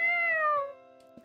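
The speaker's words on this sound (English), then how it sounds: "That's a loud ass meow." A cat in a video game lets out a single loud, drawn-out meow, clear and close, that slides slightly downward in pitch before cutting off, followed by a faint click.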